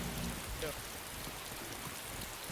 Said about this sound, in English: it's starting to rain really hard so that they're not gonna hear our footsteps